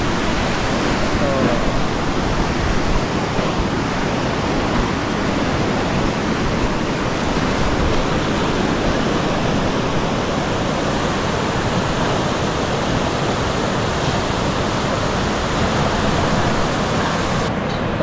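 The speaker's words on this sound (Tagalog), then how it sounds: "Ito po yung baha." Floodwater rushes past a bridge under construction in a constant, loud, broadband roar that fills the whole stretch without pause.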